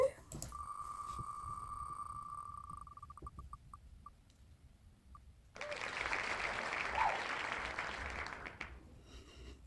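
A spin wheel's steady electronic tone breaks into ticking clicks that slow to a stop, then a burst of recorded crowd cheering and applause rises and holds for several seconds.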